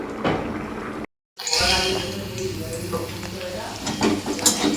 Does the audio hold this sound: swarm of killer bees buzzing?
no